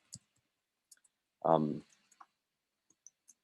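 Computer mouse clicks while working in a Python notebook: a few sharp, quiet single clicks scattered across the clip, with a brief spoken sound in the middle and near silence between.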